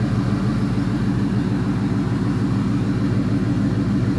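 A Chevy LS 5.3 engine runs on a test stand, a steady low rumbling drone at an even idle, close and continuous with no voices.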